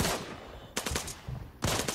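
Automatic weapon fire in the Arena Breakout mobile shooter game: a burst at the start, a second sharp burst near the middle and a third near the end, separated by quieter gaps of ambient game sound.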